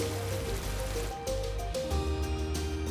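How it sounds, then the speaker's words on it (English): Rain falling in a mountain valley, a dense steady patter of drops with a low droning hum running beneath it throughout. "The rain runs off the mountains, building momentum as it descends to the valley floor."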